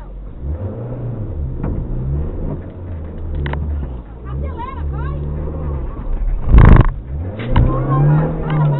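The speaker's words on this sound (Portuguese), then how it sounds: "Ele tá acelerando, gente, uai." A car engine revs repeatedly while the vehicle sits stuck in beach sand, its pitch rising and falling in surges, with people talking and calling out over it and a sharper burst near the end.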